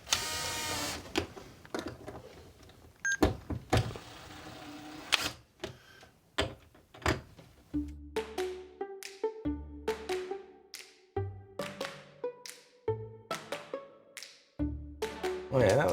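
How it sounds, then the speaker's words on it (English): Wall plugs are screwed into a wall for smart window shades. Repeated short clicking and ratcheting bursts come from a close-up tool, separated by brief pauses, with no talk. "we are just screwing in the plugs"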